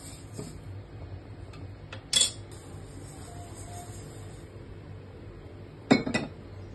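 A few light clinks and scrapes of roasted sesame seeds and a utensil against metal pots, two brief clattering bursts in a quiet kitchen.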